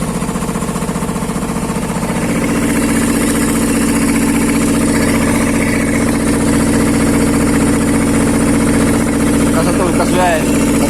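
The diesel engine of a tracked LX12-9B mini excavator idles loud and close with a steady rumbling throb for the whole stretch, while someone talks over it.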